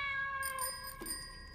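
A cartoonish meow effect for a wind-up kitten attack in a Yu-Gi-Oh-style card duel, one short cat cry ringing over bright chime-like tones.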